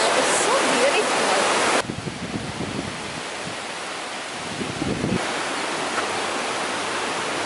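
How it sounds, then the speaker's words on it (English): River water flowing in central Evia, Greece, a broad steady rush of noise, close and loud at first, then softer and farther off after an abrupt shift, with low rumbling wind-like bursts. "Look at the river, guys."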